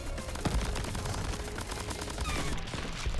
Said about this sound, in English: So many firework shots as well, which is pretty interesting.